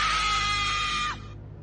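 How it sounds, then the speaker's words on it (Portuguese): A horror scream effect blares from a phone speaker, one sustained, loud, harmonic shriek held for about a second before cutting off abruptly, leaving a faint hum. "baixou um som de grito de horror"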